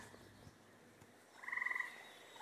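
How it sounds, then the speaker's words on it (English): A frog gives a short, rapid trill of croaks on a quiet summer evening, fairly faint against a soft background of insects and distant noise. "You hear the frogs cranking up."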